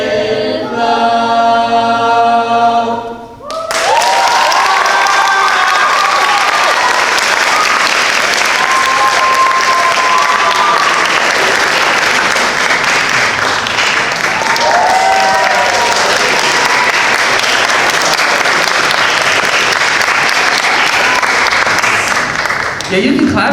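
Sustained audience applause at a spring school music showcase, loud and steady for about twenty seconds after a brief musical ending, with scattered cheers and whoops mixed into the clapping.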